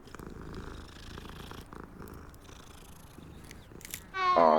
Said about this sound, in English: I'm gonna see if I can pet this cat. I can pet this cat.